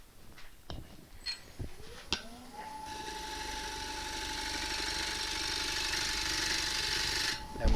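A gouge slices wood on a lathe while turning a beginner's bowl: a few sharp knocks and taps first, then the motor whine rises and a sustained rushing cut grows steadily louder to the end.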